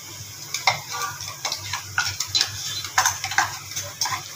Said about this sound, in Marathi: ही सोयाबीन मध्ये टाकून परतत आहे।